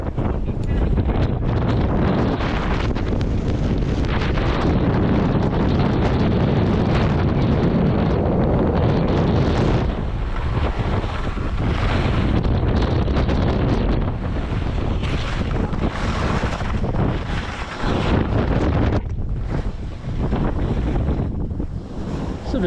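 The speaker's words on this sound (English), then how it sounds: "Bit windy." Strong, continuous wind roars across the microphone at the top of a mountain at Loveland Ski Area, a loud gusting rush that barely lets up for the whole stretch.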